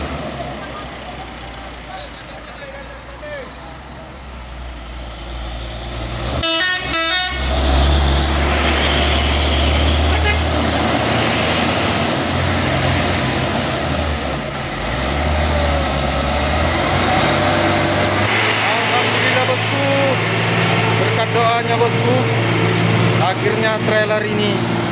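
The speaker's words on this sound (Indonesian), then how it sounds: "Trailer ini sampai juga ke atas tanjakan bosku" A Hino trailer truck labours up a steep hill, its deep diesel engine droning loud and continuous, rising after a brief clatter and holding a strained, heavy roar, with a voice talking over it.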